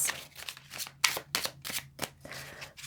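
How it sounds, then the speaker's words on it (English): A deck of tarot cards is shuffled by hand in a quiet room, giving a run of crisp riffling bursts and soft taps spread unevenly over a few seconds, close and fairly faint. "let's just shuffle this and see what wants to"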